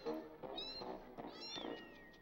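A cat in the Amanda the Adventurer 2 video game lets out a few close, rising and falling meows in quick succession, clear and alone.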